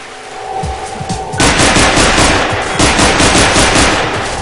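Submachine gun fire from Half-Life 2, a loud, dense stream of rapid automatic shots after a quieter opening, sustained to the end with no talking.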